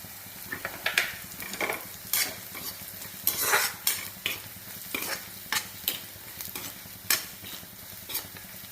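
A spoon stirs grated ginger and turmeric powder frying in oil in a pan for a lady finger stew, giving repeated scraping strokes over a steady close sizzle with no talking.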